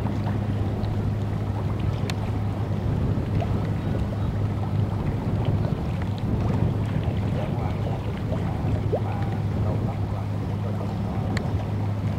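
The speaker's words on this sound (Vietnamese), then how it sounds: "Hiện tại thì chiếc cao tốc nhỏ đang dẫn trước các bạn." A small speedboat races on the water alongside fishing boats, its engine a steady, loud drone mixed with wind buffeting and rushing water throughout.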